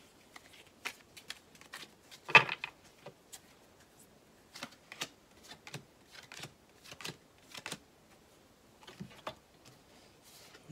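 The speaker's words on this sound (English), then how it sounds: "now we're going to draw our last 5 cards" Tarot cards are shuffled and drawn by hand, producing soft, scattered riffles, slaps and flicks in a quiet room with no talking.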